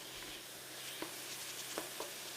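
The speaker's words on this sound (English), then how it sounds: "I'm just browning this chicken off" Chicken browns in a pan with a faint, steady sizzle and a few soft clicks and taps from stirring, heard alone and without talking.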